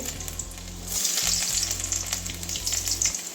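Chopped garlic fries in oil with a bright, steady sizzle and soft stirring, close and continuous, over a low hum with brief dips.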